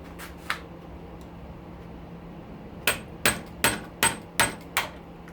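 Hammer chipping at a rotor during a teardown, a single early strike followed by a run of six sharp, evenly spaced metallic blows, close and loud, with no talking.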